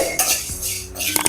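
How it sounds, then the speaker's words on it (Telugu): Coriander seeds, mustard seeds, cumin and fenugreek being dry-roasted in a pan, heard as a brief close clatter of a metal spoon stirring against the pan with light scraping. "ఇప్పుడు వీటన్నిటిని ఫ్రై చేసుకోవాలి"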